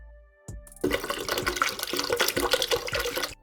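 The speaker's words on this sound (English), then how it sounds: "1 liter of water in," Water, one liter, poured into a blender jar over almonds for almond milk: a steady, close splashing rush lasting about two and a half seconds, then stopping, with no voices.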